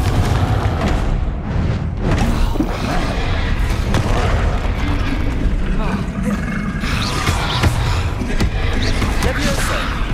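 Blasting-spell explosions in Hogwarts Legacy come as repeated loud booms and crashes amid dense battle noise, with a voice shouting spell names throughout.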